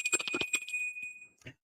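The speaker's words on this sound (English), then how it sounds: "We're going to ring the bell for morning." A bell is rung to cleanse the space during a late-night live tarot reading, giving a clear sustained ringing tone that fades over about a second amid rattling handling noises nearby.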